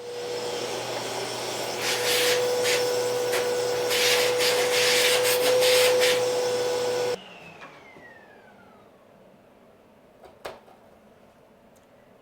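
A sharp chisel shaves and squares wood in a shop, making a loud, continuous close-up rasping scrape for about seven seconds. It then stops abruptly, leaving near silence broken by a couple of light taps.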